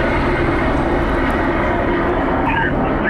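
A police helicopter flying overhead makes a steady, loud, broadband engine and rotor roar. It fills the scene continuously, with no speech over it.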